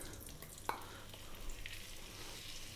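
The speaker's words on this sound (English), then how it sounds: "Simply, we're gonna drop in our potatoes first." Potatoes fry in olive oil in a wok with a faint, steady sizzle, broken by one sharp utensil click near the start and light stirring noises.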